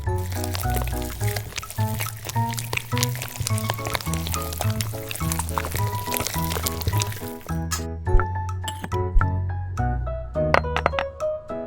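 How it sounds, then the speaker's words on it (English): Hot water poured over dried butterfly pea flower and rose in a small vessel, a gentle trickling pour with light bubbling and soft clinks, close and quiet over background music. "Hot water."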